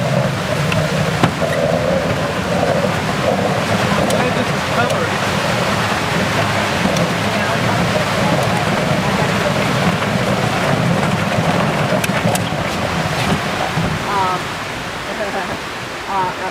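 Water whooshes out of a hand-cranked lettuce spinner as it is turned fast, a loud, steady rushing wash with no break for about fourteen seconds before it eases slightly near the end.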